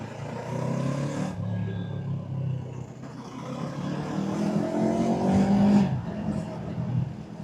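A Yamaha R3 motorcycle accelerates, its engine note climbing steadily through the revs in a loud, continuous pull that dips briefly near the middle, then rises again before easing off.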